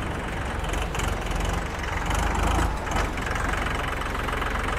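Kubota NT542 42-horsepower tractor engine idling, a steady low mechanical rumble that holds throughout at close range with a few brief swells, no talk.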